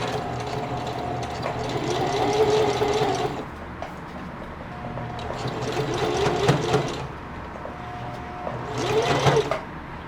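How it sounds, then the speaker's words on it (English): Sewing machine stitching a dense bar tack zigzag on a jeans back pocket, bursts of rapid mechanical clatter in three runs separated by short pauses, close and clear with no talking. "Do a little more bar tack zigzag."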